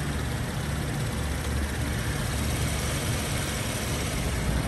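A steady, unbroken engine drone holds at an even level throughout, a constant idle rumble with no voices or changes in pitch, from a 2019 Chevrolet Traverse 1LT.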